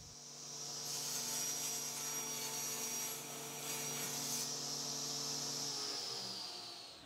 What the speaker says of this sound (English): set up a stop block and cut the legs at 17 inches